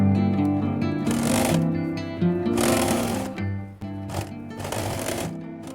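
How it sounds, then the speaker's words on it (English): A sewing machine runs in short bursts as it topstitches the main fabric of a fabric and faux leather laptop bag, with a steady close mechanical whir that pauses briefly between runs. "make a top stitch on the main fabric"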